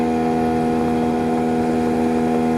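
A 15 PK speed engine drives a Spoon fiber boat on the water with a loud, steady outboard drone and strong tonal hum that stays constant and close throughout, with no talk.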